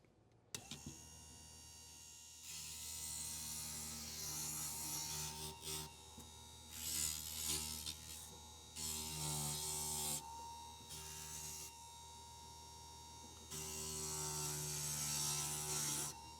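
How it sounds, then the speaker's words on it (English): A stained glass grinder whirs as a glass piece is pressed against it, producing a steady motor drone with repeated bursts of gritty grinding scrape, near and moderately loud. "Go ahead and clean this up on the grinder."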